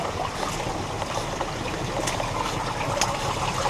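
Water trickles and flows steadily into a flooded woodworking shop, a continuous close splashing rush with no break.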